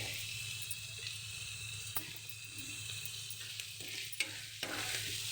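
Turmeric-spiced curry simmering and sizzling in a pan, a soft steady frying hiss with occasional stirring clicks and scrapes, fairly quiet and close.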